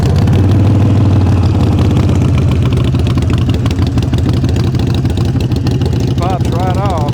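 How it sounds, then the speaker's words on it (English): A Harley-Davidson Sportster 883 Iron XL883N with a Vance & Hines exhaust and 776 miles fires up and settles into a loud, close, lumpy idle that thumps along unbroken. "Fire it off and let you give it a listen."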